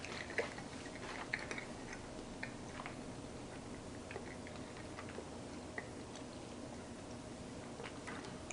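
Homemade pizza cooked in a Ninja Foodi steam fryer being chewed close up, soft irregular crunching and smacking bites continuing steadily over a faint background hiss, with no talking.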